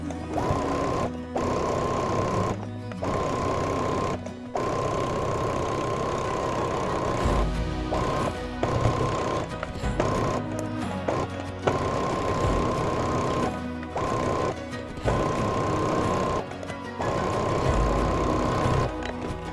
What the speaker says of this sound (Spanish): Entonces yo voy a coser por el de abajo,